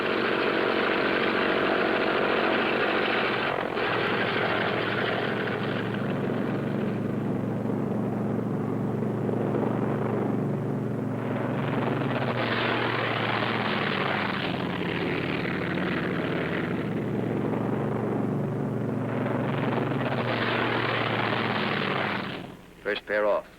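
A pair of fighter jets taking off, the engines a loud, steady roar that swells and surges for over twenty seconds before cutting off abruptly at the end.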